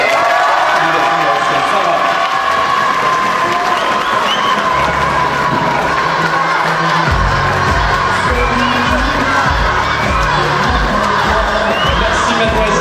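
Live audience at the Miss Oise 2019 pageant applauds and cheers its sixteen candidates, a loud, steady crowd roar with whoops and shouts, with a rhythmic pounding of clapping or stomping joining in halfway.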